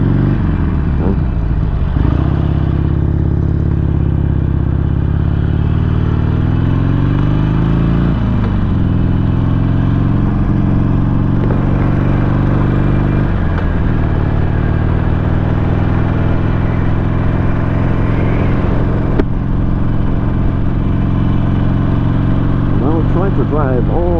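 A motorcycle ride on long, straight roads out to Fort Stevens in Oregon, with a loud, steady engine drone and shifting revs throughout, heavy wind rumble and a voice talking over it.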